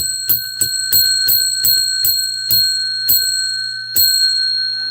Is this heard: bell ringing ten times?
yes